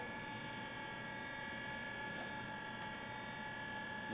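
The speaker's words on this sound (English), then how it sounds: "Going to bring the machine on. Spindle's very quiet." A Mitsui MSG-200 hand-feed ball roller surface grinder, 6 by 12 inch, runs with a steady, quiet spindle hum and faint high machine whine, constant throughout with no talking.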